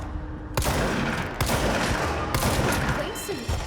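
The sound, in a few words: gunfire in the video game Control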